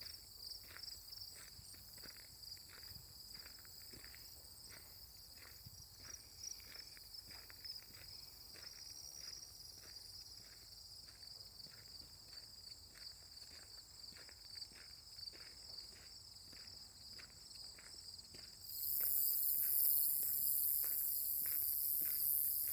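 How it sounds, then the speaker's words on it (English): Crickets chirp steadily in mowed green fields of a nature preserve while footsteps crunch on gravel at a regular walking pace, fairly faint, with a louder rise of insect noise near the end. "The crickets are chirping in the fields and frogs."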